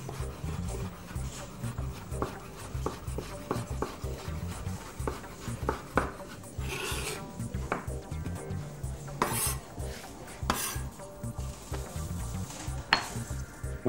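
A chef's knife cuts a mushroom into strips on a cutting board while preparing beefsteak with vegetables, giving a run of quick, close, fairly loud taps and board knocks at a steady chopping rhythm, with a few louder clatters of kitchenware.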